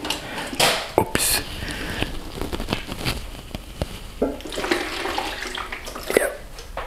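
Water pours from a heavy watering can in uneven splashing bursts, close and moderately loud, with intermittent clunks and handling noise.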